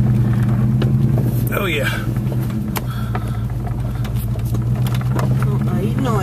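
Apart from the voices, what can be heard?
Dodge Durango driving downhill in four-wheel low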